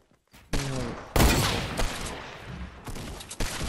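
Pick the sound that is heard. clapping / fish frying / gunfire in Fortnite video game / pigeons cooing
gunfire in Fortnite video game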